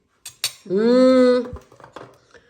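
Spoons and forks being set out on a tray give a couple of light, close metallic clinks, followed by a short hummed vocal sound.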